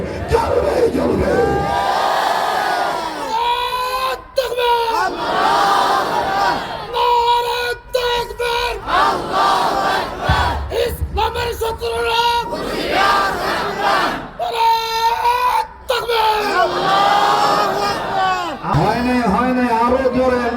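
A large crowd at a Bengali Islamic religious rally roars the Takbir chant in repeated loud bursts, answering a leader's calls through a microphone, with voices swelling and dropping in a call-and-response rhythm.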